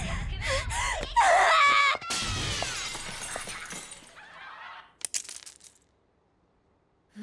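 Window glass shatters in an anime scene, a loud sharp crash with tinkling shards that trails off, set among a scream and a busy musical soundtrack before falling to near silence.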